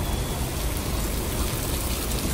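Heavy monsoon rain pours down steadily and loudly, a dense unbroken hiss of drops drumming on surfaces close by, with no voices over it.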